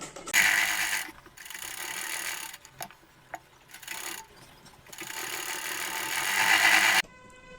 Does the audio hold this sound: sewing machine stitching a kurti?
yes